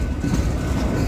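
A freight train hauling a long line of hopper wagons rolls past close by in the Australian sun, a steady broadband rumble of wheels and wagons that holds even and loud throughout.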